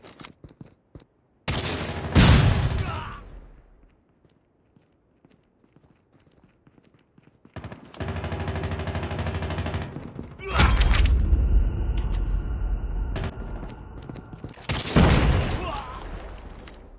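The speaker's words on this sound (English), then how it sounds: "Flashbang!" In a video game firefight, a flashbang grenade goes off among gunfire, with loud booming bursts and dense rattling blasts separated by a quieter stretch with sparse clicks.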